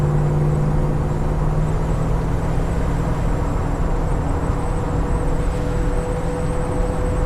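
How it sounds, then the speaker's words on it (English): A car engine runs at a steady, loud, throaty drone that holds evenly throughout, with no speech. "Oh, this car sounds so meaty."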